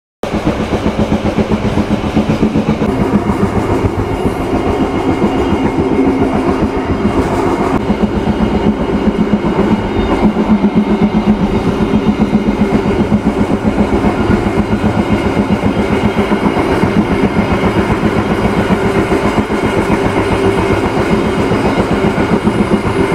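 Steady clickety-clack of a passenger train hauled by a CC 201 diesel locomotive as it pulls out of Pasuruan station in Java, a continuous loud rolling rumble with rhythmic wheel beats heard from on board, no voices.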